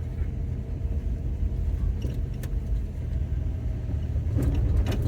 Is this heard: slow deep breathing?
no